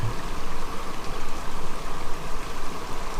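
Steady, continuous rush of a forest stream running over rocks in the Red River Gorge, fairly close and even throughout with no voices.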